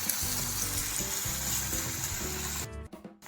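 Onion sizzles in a hot pan with a dense frying hiss and a low tonal hum beneath, cutting off abruptly near the end.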